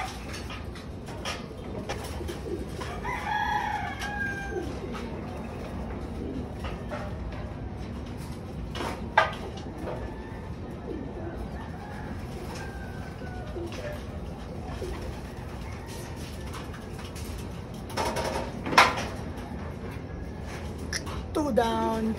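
Caught wild birds, pigeons or doves, cooing and calling intermittently at close range, with a few sharp thumps and rustles over steady background noise and occasional talk.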